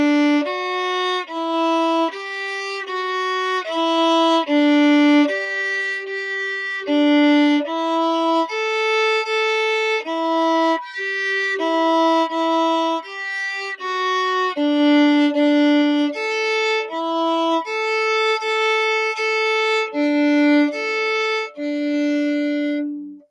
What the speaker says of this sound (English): This is the cello and bass third line.